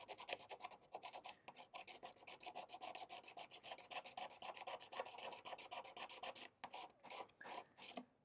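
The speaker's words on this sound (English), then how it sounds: "simply grab your razor blade and drag it backwards over the sticker" Razor blade dragged backwards to scrape rubber off a go kart sticker, a close, rapid, rhythmic scratching that goes on steadily and breaks into a few separate strokes near the end, very faint overall.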